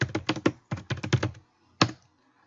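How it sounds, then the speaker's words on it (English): Someone types a name on a computer keyboard in two quick runs of close, crisp key taps, then a single final keystroke in a quiet room. "we type in a name for our case"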